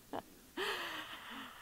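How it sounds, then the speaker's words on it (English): During a guided meditation, a person draws a deep breath in, a breathy rush preceded by a brief short inhale, heard up close with soft tonal sounds trailing underneath. "And breathing in"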